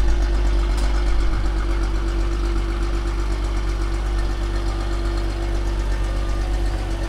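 A classic Volkswagen Golf Cabrio with an engine conversion sits idling, a steady low rumble with a constant mechanical drone that holds evenly from start to finish, close and fairly loud, with no talking.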